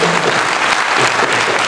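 Dense, steady audience applause at a university inaugural lecture in Uyo, a close, loud wash of clapping that fills the whole short stretch without a break.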